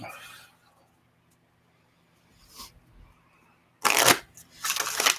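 A deck of playing cards shuffled in two quick bursts, each a loud dense riffling flutter of about a second, with a fainter rustle earlier and a quiet room between them.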